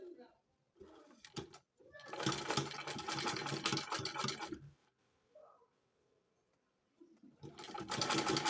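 Sewing machine stitching a trouser pocket, running in two long bursts of steady rapid whirring, with short starts and a quiet pause between; a voice talks briefly at the start.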